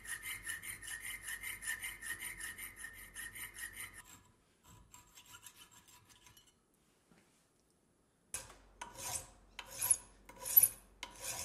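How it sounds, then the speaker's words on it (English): Hand files rasp on small metal model boiler parts for a Pennsylvania A3 switcher, a rapid run of close, rhythmic strokes, then a few faint scrapes, a pause, and a second burst of sharper strokes. "I used the fret saw and files to bring these guys to shape"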